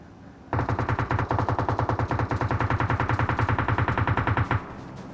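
Automatic gunfire in the PUBG Mobile battle-royale game rattles out as one loud, sustained rapid-fire burst lasting about four seconds, with no talking over it.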